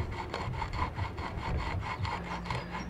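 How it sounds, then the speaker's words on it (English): A coarse whetstone rubs back and forth over kerb damage on a BMW alloy wheel, giving a steady rasping scrape in regular strokes about four per second, close and moderately loud with no talking. "the whetstone's really coarse, and it'll take off quite a bit of metal quite quickly"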